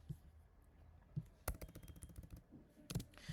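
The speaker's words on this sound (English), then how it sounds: "I'm just gonna type this as a topic" Typing on a computer keyboard, quiet scattered taps then a quick run of keystrokes and a short second burst, close and soft with no speech.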